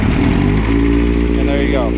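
A motorcycle engine runs loud and close at a steady idle with a deep, even rumble, a voice speaking over it.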